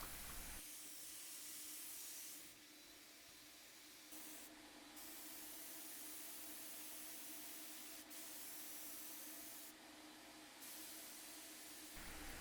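An HVLP turbine paint sprayer hisses steadily while painting a set of French Provincial nightstands. The close, continuous spray runs for several seconds, with brief breaks and level changes as the trigger is worked.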